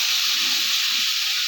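Spices, ginger, cumin, chilli, tomato and a little onion frying in a pan, a steady loud sizzling hiss that holds unbroken throughout.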